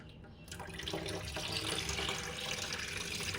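Local prawns are rinsed under a running tap, a steady splashing gush of water into a sink that starts after a brief quiet moment and continues close and fairly loud throughout.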